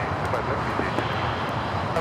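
A Singapore airliner lands on runway 24 right at LAX, its engines a steady, broad roar throughout while people talk over it.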